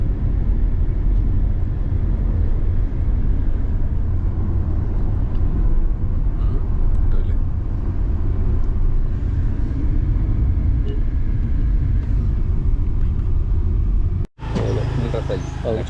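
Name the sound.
car driving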